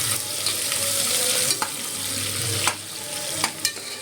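Sliced onion frying in oil for mutton masala gives a loud, steady sizzle close up, broken by a few clinks and scrapes of stirring.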